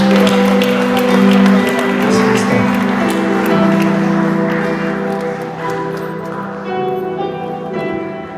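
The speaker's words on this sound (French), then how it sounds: "Est-ce qu'on peut les applaudir, s'il vous plaît?" Wedding guests at a civil and religious ceremony applaud the couple, a loud sustained burst of clapping that fades slightly toward the end, with voices and music tones mixed in.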